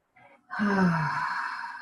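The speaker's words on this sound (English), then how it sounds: "Breathing into that now." Deep audible breath during a guided meditation, a brief soft intake followed by a long, fairly loud exhale lasting over a second, heard alone without talk.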